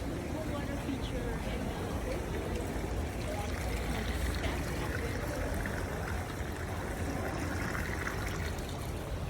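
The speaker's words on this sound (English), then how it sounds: "there's a little water feature going on" Water from a small decorative feature trickles and splashes steadily in a greenhouse, a constant wash of moderate loudness with a crowd murmuring faintly underneath.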